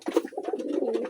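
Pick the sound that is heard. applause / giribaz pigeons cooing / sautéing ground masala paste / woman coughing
giribaz pigeons cooing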